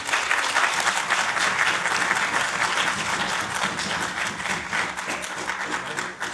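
An audience at a Hindi conference applauds with sustained, full clapping from many hands, loud and steady, easing slightly toward the end.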